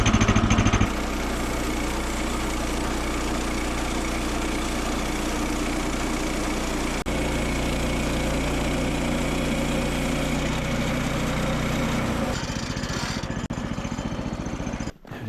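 A Woodland HM122 sawmill's engine roars loud and steady as it takes a skim cut off the top of a log, with a shift in tone near the end as the cut finishes.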